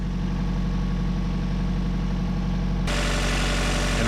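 A 2014 Chevy Volt's Ecotec engine idles with a secondary ignition misfire, a steady close hum that jumps louder and brighter partway through.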